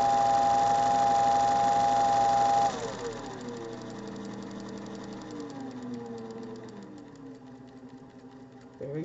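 A Singer 201 sewing machine hums steadily, then its motor pitch shifts and wavers as it runs up to speed, smooth and moderately quiet, with no talk.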